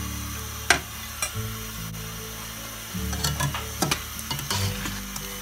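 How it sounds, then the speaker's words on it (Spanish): Broth poured into a pan of callos with chickpeas that is already frying, bringing a strong, continuous sizzle and bubbling, with occasional clinks and stirring knocks close by. "Le echamos un poquito de caldo."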